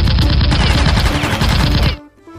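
Rapid burst of toy pistol gunfire, loud and close, firing continuously for about two seconds before stopping abruptly, leaving a faint quiet tail.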